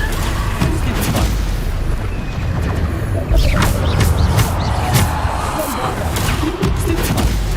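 Bombarda spell blasts from Hogwarts Legacy combat boom loudly in a dense, rumbling barrage, with sharp crackling bursts layered over continuous low roar and scattered impacts.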